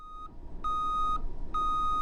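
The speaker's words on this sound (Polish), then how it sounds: "również w ciężarówkach został dodany dźwięk pikania, dźwięk cofania" Repeated electronic reversing beeps from a truck in the Roblox driving game Polish Car Driving: three steady tones, the first short and the next two longer, with brief gaps between them. They sound clear and fairly close, with no voices.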